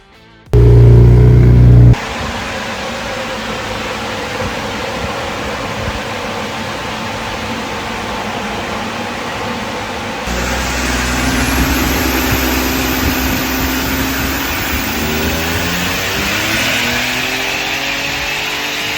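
A Ford Ranger Raptor with a stage 4 upgraded turbo kit drives around the block, its engine droning steadily up close, then the pitch and roar rise at about ten seconds as it accelerates. A short loud burst opens the recording.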